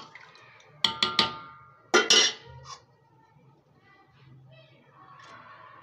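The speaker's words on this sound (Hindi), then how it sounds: "अब इसी टाइम पे मैं डाल दूंगी इसमें आंवला" Dried amla is tipped into a pot of warm sugar, giving a quick burst of close metallic clinks and rattles, followed by quiet with a faint voice afterward.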